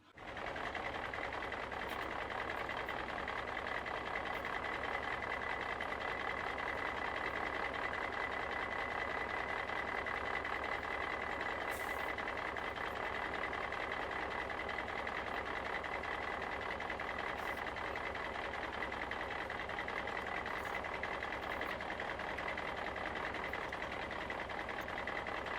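CAT Mighty Machines toy wheel loader running its electronic engine sound, a steady buzzing whine with a sustained tone held for the whole stretch, close and unbroken, with no talking.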